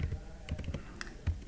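Short run of Python code being typed on a computer keyboard, several quick uneven keystrokes close up, quiet and with no voice over them.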